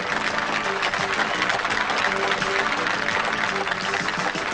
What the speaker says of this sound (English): They're starting to cheer from the grandstand